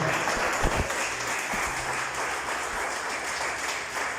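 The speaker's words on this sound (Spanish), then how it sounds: "Denle un aplauso al Señor, por favor, en esta hora" A church audience gives a sustained round of applause, dense steady clapping close by with a few louder low thumps early on.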